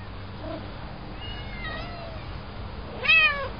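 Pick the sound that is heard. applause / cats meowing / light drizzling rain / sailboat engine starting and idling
cats meowing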